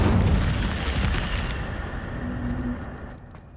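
An Incendio fire spell cast in Hogwarts Legacy erupts with a loud whooshing burst that rumbles and then slowly fades into a lingering crackle and hiss.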